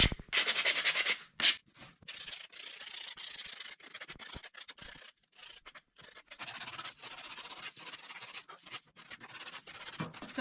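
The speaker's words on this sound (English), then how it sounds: "I got all the pieces cut for the middle section, and they all need a light sand," Cut wood pieces for a wall-mounted candy dispenser are hand-sanded lightly, close up, in quick rhythmic scratchy strokes that come in bursts with short pauses between, with no talking.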